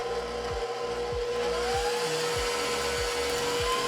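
Electric hand mixer whirring steadily as it creams butter, sugar and eggs for a pecan pie filling, a continuous motor hum with repeated low dips and swells as the beaters work the mixture, no talking.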